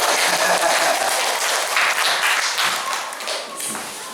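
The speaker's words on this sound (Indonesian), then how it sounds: "Tepuk tangan untuk saya" A room full of listeners at an Indonesian Arabic-grammar lesson applaud their teacher with loud, thick, continuous clapping that stays strong throughout and eases only slightly toward the end.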